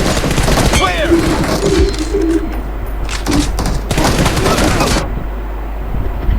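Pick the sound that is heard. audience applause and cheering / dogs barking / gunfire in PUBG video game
gunfire in PUBG video game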